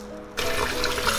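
Glutinous rice rinsed in clean water, a sudden close, steady rush of running and sloshing water that starts after a brief quiet moment.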